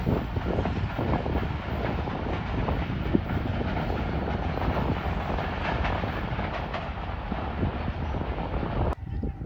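A container train, NLC locomotive GMU 30 on route 72-25, passes Jungshahi railway station at good speed, a loud continuous rumble and clatter of wagons close by with wind buffeting throughout.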